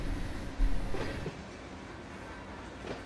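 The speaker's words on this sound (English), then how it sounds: "So I got another train coming." A train rumbles past from a short distance away, a steady low roar with a brief louder swell near the start that slowly thins out. No one speaks.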